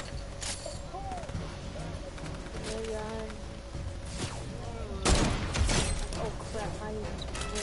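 Gunshots in a video game: scattered cracks through the clip, with a louder burst of shots near the end, all under a person talking.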